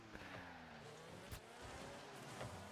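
Cars driving in the video game Rocket League, engines revving and whooshing past with shifting pitch, a couple of sharp impact thuds and brief tire squeals, fairly quiet and continuous with no talk.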